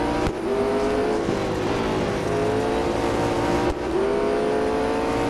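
Sustained high-revving engine drone of a McLaren 720S GT3 race car in the Real Racing 3 mobile game, loud and steady with shifting pitch and brief gear-change dips, no voices.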